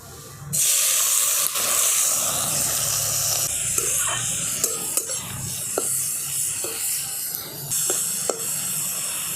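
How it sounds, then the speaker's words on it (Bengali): Chopped onion and tomato frying in hot oil in a pan give a loud, continuous close-up hiss, broken by faint utensil clicks and no speech. "এরপর আমি পেঁয়াজ আর যে টমেটো কেটে রেখেছি সেই পেঁয়াজ আর টমেটোটা আমি ভেজে নেব"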